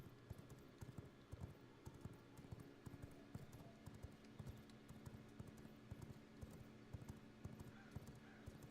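Horse hooves galloping in the video game V Rising, a steady run of quick clip-clop beats over a dense, continuous game soundscape, moderately loud throughout.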